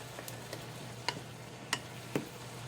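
Bitter gourd cooking briefly in a pan: a constant soft sizzle with a low steady hum underneath, broken by four or five sharp clicks of a utensil against the pan, spaced irregularly.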